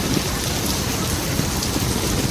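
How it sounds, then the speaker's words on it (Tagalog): Steady heavy rain pours continuously, a dense hiss of drops hitting surfaces close by, with no voices. "Maulan, nalakas ang ulan dito."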